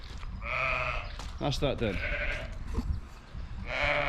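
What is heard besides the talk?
lambs bleating, Charolais and Texel cross sheep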